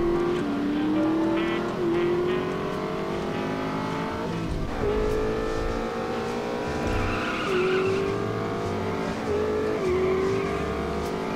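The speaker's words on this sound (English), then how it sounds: "This car can really haul ass" A car speeds hard in The Saboteur video game, its engine revving up through repeated gear shifts with rising pitch sweeps, tires squealing and skidding, loud and continuous with no talk.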